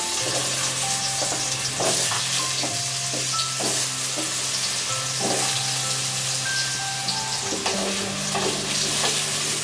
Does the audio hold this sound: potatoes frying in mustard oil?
yes